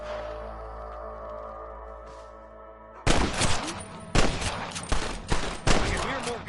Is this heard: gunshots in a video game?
yes